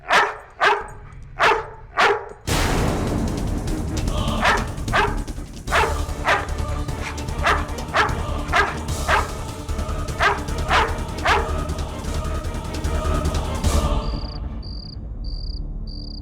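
A dog barks five times in quick, loud bursts, then a denser run of repeated barks continues over a steady insect-like background hum, ending with a faint high rhythmic chirping.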